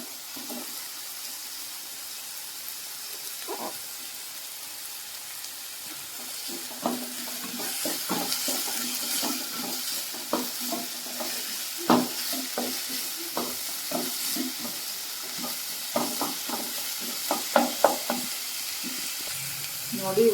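Beans and carrots stirred into frying onions for veg samosa filling: a steady sizzle in the pan with repeated scraping and clinking stirs, growing busier partway through, with no talk.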